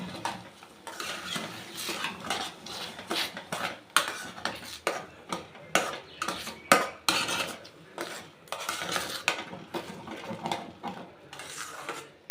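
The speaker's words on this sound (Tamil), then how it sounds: "கொஞ்சமாக மஞ்சப்பொடி இதை கலந்துக்க வேண்டியதான் நீங்கள் சிம்மில் வச்சு கலருங்க" A spoon stirs turmeric into adai batter in a pan over low heat. Irregular metallic scrapes and clinks against the pan come up close, with faint sizzling and no talking.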